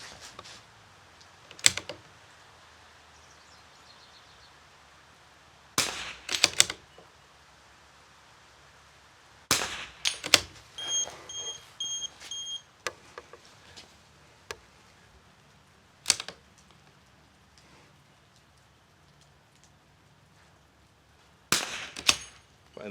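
Rifle shots from a Vudoo Three 60 at an outdoor range: several sharp, isolated cracks spaced seconds apart, some followed by faint clicks of working the action, with no talk.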